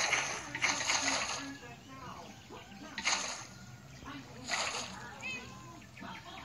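Water is placed repeatedly in Minecraft Pocket Edition while building a wishing well, three separate splashy whooshes in a row, each a short burst, with faint game sounds and a person talking quietly underneath.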